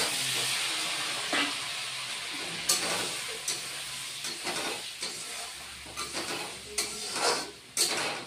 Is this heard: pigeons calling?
no